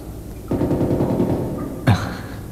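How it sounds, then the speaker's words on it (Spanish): Machine gun fire from a rooftop in a prison action film, a loud sustained rapid burst of shots with a sharp crack near the end, alone with no talk. "nos disparan desde el techo de uno de los bloques, en la galería este"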